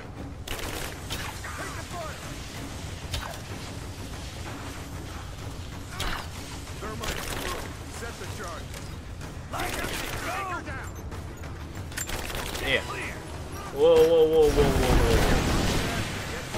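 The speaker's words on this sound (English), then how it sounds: "Machine gun here." Machine gun fire in the video game Rise of the Tomb Raider, bursts of rapid shots scattered through a busy mix of combat noise and game effects, with a heavier, louder burst near the end.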